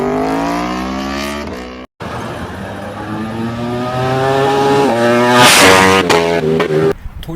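A motorcycle engine of inline cross-plane four or V4 layout revs loudly and continuously, its harmonic pitch climbing and falling through several throttle blips with a brief cut near two seconds, close and alone.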